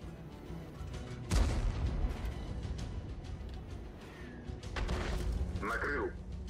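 Artillery fire from a Soviet 212A self-propelled gun in World of Tanks on the Fjords map, a sharp boom followed by a second burst, with someone talking over the game sounds.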